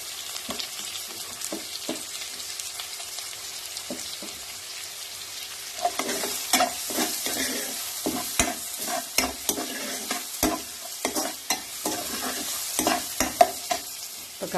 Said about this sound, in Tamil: இப்போ காரத்துக்கு தேவையான ரெட் சில்லியும் போட்டு நான் நல்லா வதக்கிக்கிறேன்.